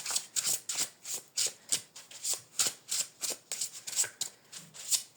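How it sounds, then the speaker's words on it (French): Tarot cards being shuffled and drawn by hand, a rapid run of crisp riffling bursts in a steady rhythm, close and fairly quiet, with no talking. "On va tirer une carte complémentaire pour voir."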